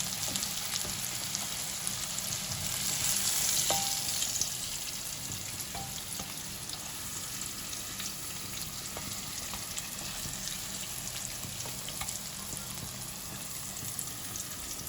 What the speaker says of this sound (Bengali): পনিরগুলো হালকা লাল লাল করে ভাজা হয়ে গেছে